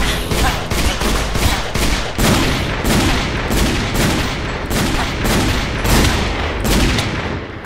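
Rapid, loud gunfire from a golden revolver in Minecraft, a dense steady barrage of repeated shots running the whole time with no pauses.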